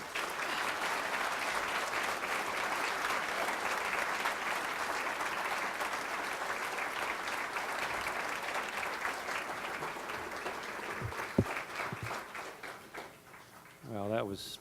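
Sustained audience applause at a scholarship luncheon for student speakers, steady and full for about eleven seconds before tapering off, with a voice speaking briefly near the end.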